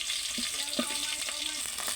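Steady crackling sizzle of chopped onion and garlic frying in hot oil, with occasional scrapes and clinks from stirring, close by and no voices.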